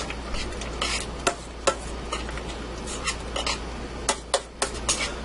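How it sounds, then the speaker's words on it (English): Homemade tomato pizza sauce with oregano being stirred in a pot over lowered heat, with intermittent spoon scrapes and sharp clicks against the pot at a moderate level and no talking. "Alright, stir that all up."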